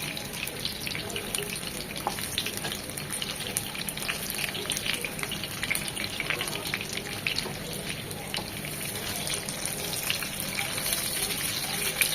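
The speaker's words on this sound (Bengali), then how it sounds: "জাস্ট দুই থেকে তিন মিনিট একটু ভেজে নেব" Chicken koftas sizzle and crackle in hot oil, a continuous close frying hiss dotted with small pops and spatters.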